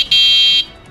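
A horn on a homemade vehicle built by a village boy gives one steady, loud, high electronic beep lasting about half a second, then stops abruptly, with no voices.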